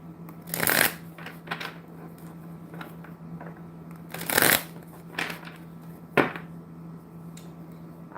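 Stiff tarot cards being shuffled by hand in a bursty rhythm, with several loud riffles spread among quieter flicks over a steady low hum, and no talking.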